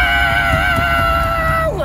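A person's voice imitates someone screaming on a fair ride, a loud, sustained wail with a strained pitch that bends sharply downward at the end.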